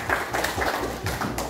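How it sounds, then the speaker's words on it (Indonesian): Applause from a large family reunion gathering in Bandar Lampung, a brief, fairly loud patter of many hands clapping in a room. "Oke, tepuk tangan semuanya"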